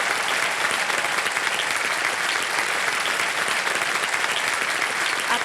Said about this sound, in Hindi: अब जोरदार तालियां एक बार बज जाए हमारे लिए।